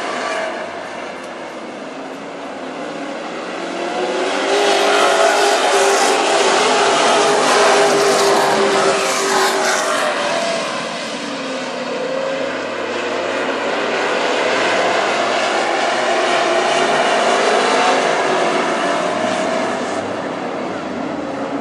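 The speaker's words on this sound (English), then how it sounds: "it is Tim Johnson that is the first 1 car on the track" WISSOTA Super Stock race cars roaring around a speedway, a loud sustained engine drone that swells as the pack passes near, then holds steady.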